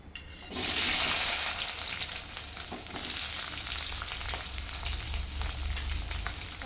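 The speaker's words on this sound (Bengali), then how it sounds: "এই তেলেই আমি এখন পেঁয়াজগুলি দিয়ে দেবো" Chopped onions dropped into hot white cooking oil for a homemade chili chicken, bursting into a loud, bright sizzle that eases into a steady crackling fry.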